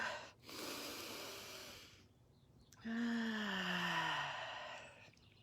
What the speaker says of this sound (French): je vais prendre une bonne respiration à l'extérieur pour vous